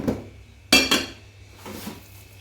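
A spoon clanks against a bowl while mixing baby marrow chili sauce into mince, one sharp clatter followed by softer scraping strokes, close and brief.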